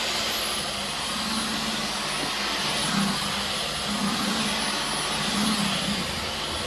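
A Dyson V15 Detect cordless stick vacuum with a laser fluffy roller runs steadily across a floor, giving a loud, even high-pitched whine and airy rush with no pauses and no voices.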